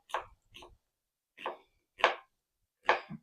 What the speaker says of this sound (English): So we're going to chop this up.